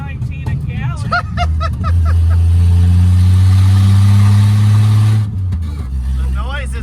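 A 1967 Plymouth Barracuda with a carburetor engine drones loudly while driving, a steady low rumble that swells for several seconds and then eases, with voices talking before and after.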